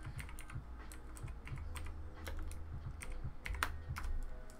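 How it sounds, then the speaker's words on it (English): Rapid keystrokes tapping on a computer keyboard, close and steady with irregular bursts of clicks over a low background hum, no voices. "Let me just type something real quick."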